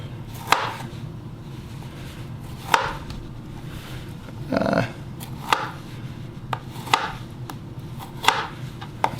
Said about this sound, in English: And then we're just going to slice them right down the middle.